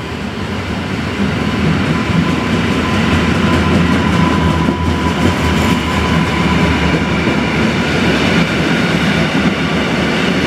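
A train rolls through Łowicz Główny station in Poland, a steady loud rumble of wheels and rail clatter that fills the whole stretch with no voices.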